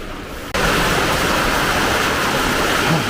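Heavy night rain in a Kerala village bursts in after a brief hush, then becomes a loud, steady, close downpour that roars without a break.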